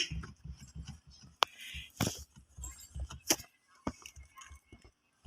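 Car keys jangle and clink against the ignition of a Mitsubishi Mirage that will not start, with sharp metallic taps and rattles in irregular bursts, close and fairly quiet.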